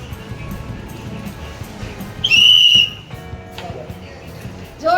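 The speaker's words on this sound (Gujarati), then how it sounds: "આ એક અમને સિસોટી મળી છે બેલ્ટ વાળી." A police cadet's whistle on a belt lanyard gives one short, shrill blast midway, followed by a fainter tone and a brief chirp at the end, over a quiet room background.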